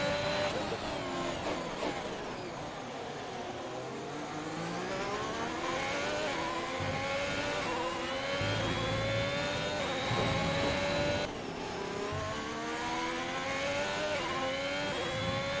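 A Formula 1 car from the game F1 2021 races around the Bahrain circuit. Its high, whining engine climbs steadily through the gears and drops sharply at each upshift, loud and continuous from start to end.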